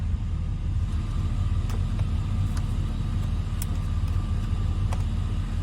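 A modified Cadillac Escalade 6.0 engine, previously flooded in a hurricane, idles steadily with a smooth, continuous low rumble, a few faint clicks and ticks over the top.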